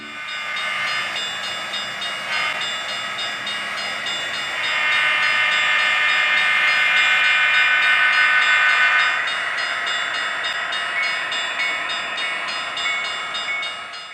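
A model locomotive's Tsunami digital sound system sounds a train horn over a steady rumble of rolling wheels and hissing, swelling louder midway and then easing back.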